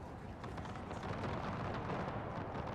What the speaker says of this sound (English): But the enemy guns have started firing on the 112th.